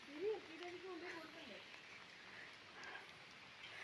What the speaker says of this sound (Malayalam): ഭയങ്കര മഴയാ